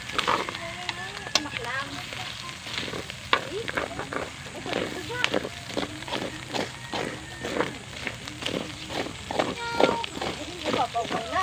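Dinuguan cooking in a pan as the pork releases its oil: a continuous crackling sizzle with frequent sharp pops and stirring scrapes, while people talk nearby.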